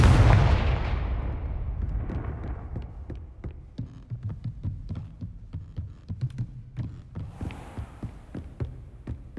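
A Confringo blasting spell explodes in Hogwarts Legacy, opening with a loud, deep boom that fades into a rumble, followed by a string of muffled, rhythmic thuds.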